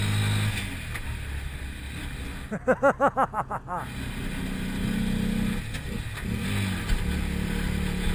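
A 2019 Motoposh Pinoy-6 150 trike engine idling, then a quick burst of pulsing revs climbing and falling, before settling back to a low rumbling idle.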